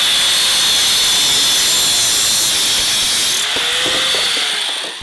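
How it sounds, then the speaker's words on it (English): A go-kart front bumper being cut by a power tool, a loud, steady high-pitched grinding whine that runs without a break and shifts slightly in tone near the end. "I have to cut this piece off of this front bumper here because it's going to be the way of the brake pedal."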